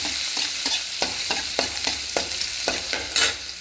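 Chopped garlic frying in ghee in a pan, a steady close sizzle broken by regular scraping stirs about every half second, with no voices.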